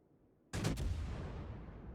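A US light cruiser's guns fire in a naval warfare game: one sudden loud boom breaks the near-silence, followed by a rolling rumble that fades slowly, heard alone without voices.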